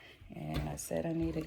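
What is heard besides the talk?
small dog barking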